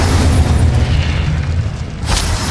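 A fire spell blast in Hogwarts Legacy erupts as a loud, continuous booming roar that fills the clip, with a brief sharp burst near the end.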